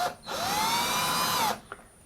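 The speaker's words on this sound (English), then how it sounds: "Notice I'm just drilling these three and no others." Power drill boring a small hole in metal shelving track mounted on a wall, one sustained high whine lasting about a second and a quarter after a brief start, close and loud, ending with a small click.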